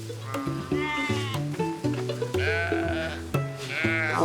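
Several sheep of mixed fiber breeds bleat repeatedly at feeding time on a farm in Shaftsbury, Vermont, overlapping calls close by and fairly loud, with no talk.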